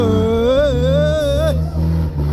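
A vehicle's engine revs hard, loud and close, as it climbs the Batu Jomba hill road. The pitch rises and wavers, then drops back over about two seconds.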